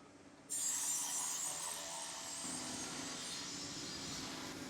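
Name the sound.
mechanical saw cutting drain pipe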